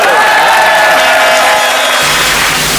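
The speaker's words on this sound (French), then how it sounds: "Applaudissez avec vos paluches pour accueillir Coluche" A television studio audience applauds and cheers to welcome the comedian Coluche, a loud, dense wash of crowd noise filling the short stretch with no voices standing out.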